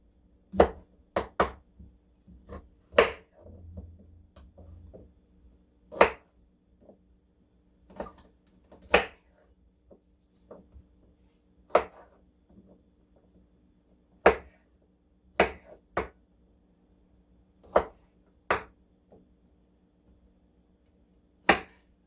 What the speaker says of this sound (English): I'll cut off these sections here to where I can peel it